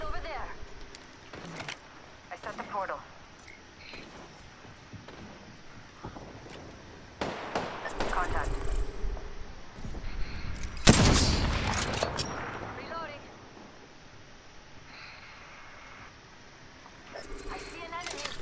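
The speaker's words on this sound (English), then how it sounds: "I am taking fire." Gunfire bursts in Apex Legends, with loud clustered shots and a heavier, longer volley near the middle, mixed with game effects while a player talks over the action.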